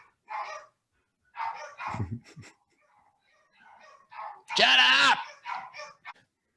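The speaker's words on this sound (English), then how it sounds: "Excuse my dogs barking in the background." Dogs bark in short, sharp bursts in a home during a podcast recording, some barks strong and close, others smaller yips, with someone briefly shouting at them between the barks.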